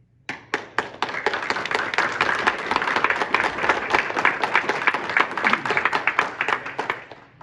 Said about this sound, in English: Please refrain from clap or applause.